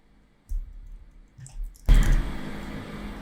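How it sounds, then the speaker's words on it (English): A few soft clicks from a computer keyboard as a login command is typed into a terminal, followed by a louder burst of broadband rustle near the end. "here I'm gonna type EAS login"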